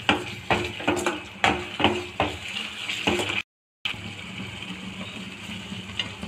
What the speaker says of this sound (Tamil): இப்போ இஞ்சி பூண்டு பேஸ்ட் ஆட் பண்ணிக்கோங்க. ஒரு 2 நிமிஷம் வதங்கட்டும்.